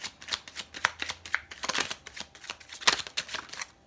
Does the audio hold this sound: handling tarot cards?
yes